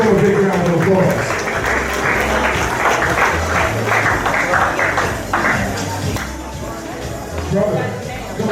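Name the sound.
audience applause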